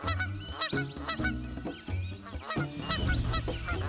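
Trumpeter swans in Yellowstone honking repeatedly in a loud, close chorus of overlapping nasal calls, with no other sound.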